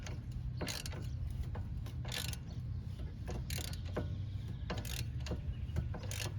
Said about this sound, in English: Take your ratchet, hold it in like that. And you rotate it this way so you can take the nut off.